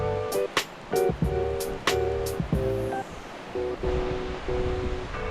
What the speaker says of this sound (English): Love that we can even hear the sound of the ocean right there.